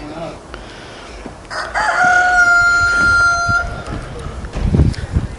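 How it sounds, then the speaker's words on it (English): A rooster crows once at Bishop Castle, a long drawn-out call at moderate distance, heard over steady outdoor ambience with people talking nearby. "It's the roosters that's been making noises."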